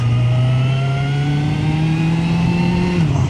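A Suzuki GSX-R 1000 motorcycle engine holds a loud, close, steady drone that climbs slowly in pitch as it revs, with no talking.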